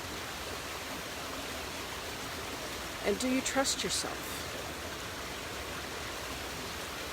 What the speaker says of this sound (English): I'm here at my river walk, and I can trust that the water is flowing